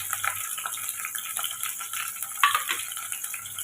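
Onions, green chillies and curry leaves sautéing in a pan, with a soft sizzle beneath scraping and stirring from a spoon and a brief clink of metal partway through, close and fairly quiet.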